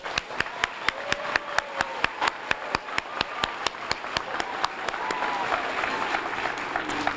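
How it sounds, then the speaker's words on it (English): Applause rises at an elementary school ribbon cutting, beginning as sharp rhythmic hand claps near the microphone and swelling into broader crowd clapping with faint voices underneath. "Let us give a round of applause for all of our wonderful world-class students."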